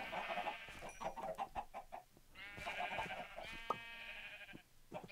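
Chickens in Minecraft cluck and squawk in quick, busy bursts, close and fairly loud, with a short pause midway before another flurry of calls.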